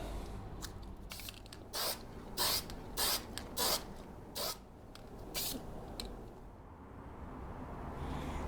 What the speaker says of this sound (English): Now this thing is not spraying well right now. It's getting clogged or something.